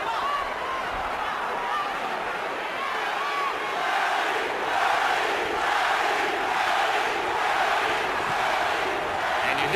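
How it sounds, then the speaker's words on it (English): A large boxing arena crowd roars steadily for Manny Pacquiao during his fight against David Diaz, a dense, sustained wash of cheering and shouting that swells slightly midway and keeps going without pause. "And you hear the adoration of the crowd."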